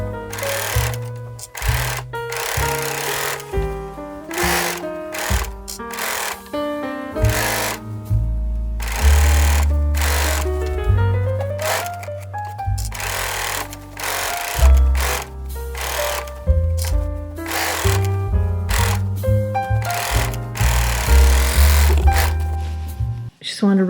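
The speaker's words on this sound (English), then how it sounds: "I'm going to serge around the top of this, catching my little straps at the same time" A serger overlocks the top edge of a reusable fabric shopping bag, catching the straps, its motor running in steady stretches under background music and a voice.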